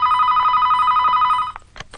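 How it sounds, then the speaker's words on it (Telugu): A telephone rings loudly and close by in an electronic trilling pulse that holds steady for about a second and a half, then breaks off and is followed by a few faint knocks. "నీకే ఫోన్"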